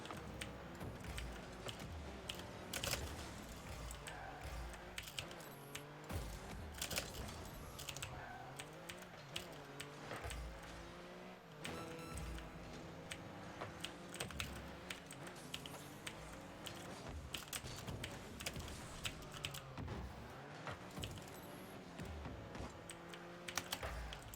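Rapid clattering keystrokes on a computer keyboard, close and fairly quiet, with dense irregular bursts of clicks running throughout and occasional louder taps.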